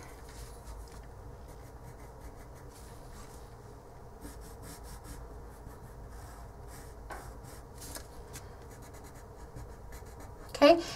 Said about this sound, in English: You can be heavy-handed with the watercolor pencils.